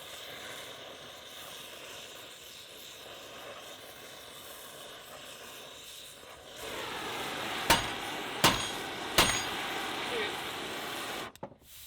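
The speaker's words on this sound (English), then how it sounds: "I'll give it a couple more whacks." Three sharp hammer whacks ring out at even spacing on a wooden boat, following a stretch of steady hiss and background hum.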